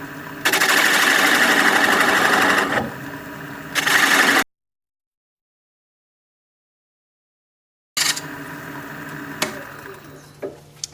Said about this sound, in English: take a, let's see, 1/2 inch standard grind bowl gouge, turning at about 700 RPM for this piece